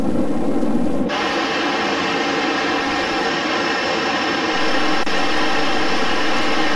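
A Fouga 170 jet aircraft in flight with the gear up gives a loud, steady, close-up engine roar that barely changes throughout.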